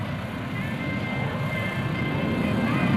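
A Navy jet flown by a retired pilot during a 2002 air show at NAS Oceana makes a steady, loud engine roar that holds at one level throughout, with no voices.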